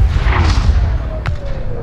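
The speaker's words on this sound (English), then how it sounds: "Today, General Robert E. Lee begins his attack with the full force of 160 Confederate cannons lined up on Seminary Ridge" Civil War cannon fire booms in a Gettysburg video game, deep rumbling blasts with a sharp distant report near the end, under a low droning background.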